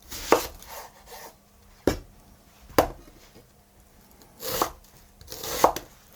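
A knife chops an onion on a cutting board in sharp, separate strokes, about six loud knocks spaced unevenly with quiet pauses between them.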